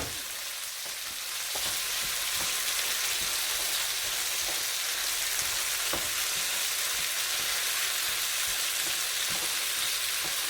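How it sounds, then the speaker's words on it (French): Vegetables sizzle and crackle steadily in a hot pan with onions as they are fried for a Tunisian méchouia salad, a dense, even frying hiss throughout with a few sharper pops. "On les fait revenir avec les oignons"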